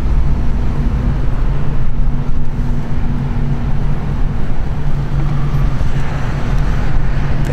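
A 2010 Honda Civic DX sedan on a test drive, heard as a steady low road and engine rumble with tire noise that holds even and unbroken throughout, with no talk.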